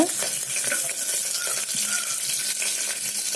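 Green chillies and garlic frying in oil in a pan, a steady hiss and crackle with light scraping stir strokes, close and continuous, no voices.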